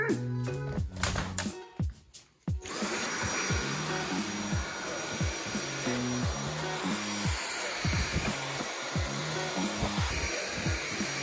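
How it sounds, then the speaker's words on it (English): A vacuum cleaner runs while a room is cleaned, starting after a brief moment of sound and then roaring loud and steady at close range with a constant whine, drowning out everything else. "usually what I like to do first is pull out the vacuum and start vacuuming"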